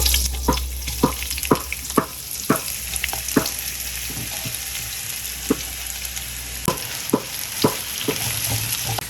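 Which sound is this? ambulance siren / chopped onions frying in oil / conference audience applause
chopped onions frying in oil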